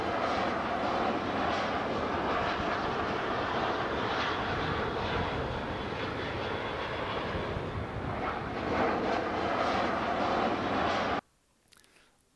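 An airplane passes overhead above Piccadilly Circus in London, a loud continuous broadband engine roar that holds steady for several seconds, swells slightly, then cuts off abruptly into near silence.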